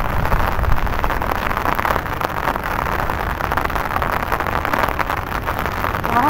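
Steady, dense rain hiss with a constant broadband wash, close and loud, no voices over it.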